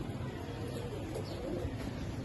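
Fancy pigeons of the Lahori breed coo softly in a loft, with low, faint murmuring calls under a steady background hiss.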